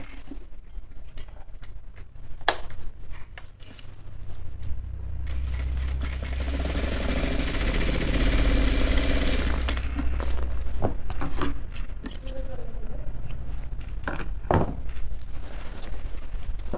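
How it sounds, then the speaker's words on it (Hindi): A sewing machine stitches a Jodhpuri coat close by, a steady loud whirring run of several seconds in the middle, framed by quieter clicks and handling of fabric. "इस सिलाई को हम कर लेते हैं पहले।"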